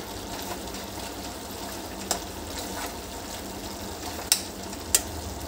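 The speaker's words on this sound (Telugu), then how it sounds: "చికెన్ చాలా ఫాస్ట్గా కుక్ అవుతుంది" Chicken curry cooks in a pan with water, making a low, even bubbling sizzle. Occasional sharp metallic clinks of a utensil stand out against the steady simmer, and no voices are heard.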